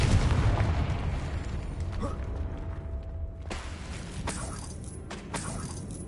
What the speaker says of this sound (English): Expelliarmus! Confringo!